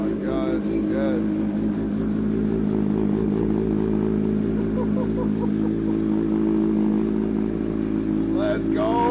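A Kawasaki Ninja H2 motorcycle with an upgraded intake, a loud, deep, steady engine note held close for the whole stretch, with people talking briefly over it at the start and the end.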